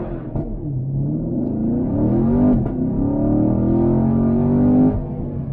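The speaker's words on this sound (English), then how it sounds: "left foot hard on the brake, right foot hard on the gas." A 2016 Chevrolet Camaro SS V8 engine holds a loud, close, sustained rev with the brake held at launch. The pitch climbs and wavers under load, and no one speaks.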